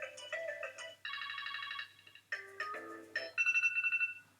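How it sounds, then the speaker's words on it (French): A default iPad alarm ringtone plays alone, a bright melodic sequence of electronic tones in short phrases, ending on a rapid pulsing repeated note. "vous avez les sonneries par défaut qui sont donc stockées sur votre iPad"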